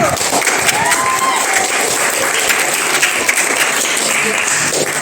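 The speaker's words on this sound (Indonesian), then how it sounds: "Beri tepuk tangan dulu" A classroom audience gives a steady round of applause, dense and even clapping that holds at a constant level for the full stretch with no pause.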